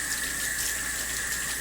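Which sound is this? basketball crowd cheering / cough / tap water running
tap water running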